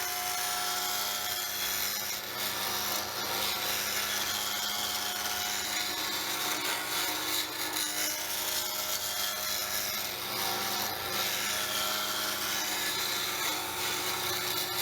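A chisel cutting wood on a turning lathe, a continuous close hissing, scraping whir that holds steady with slight swells, with no talking.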